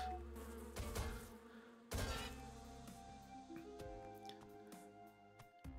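Bees or wasps in a roguelike video game buzz in layered, droning tones, with several sharp hits and pops on top and a steady electronic hum beneath.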